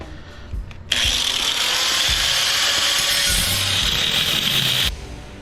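A cutting wheel on a power tool grinds through an electric motor being scrapped for copper wire, one loud, steady high-pitched whine lasting about four seconds, then stopping.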